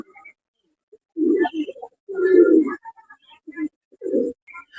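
A healthy male fancy pigeon with a boot beak coos close by in several deep, throaty bursts with short gaps between them, and no talking over it.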